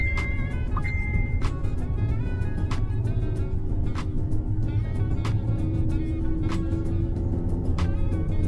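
A car engine runs steadily in gear while driving on an urban highway, a loud continuous low rumble with road noise and faint sharp ticks throughout.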